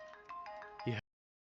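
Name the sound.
telephone ringing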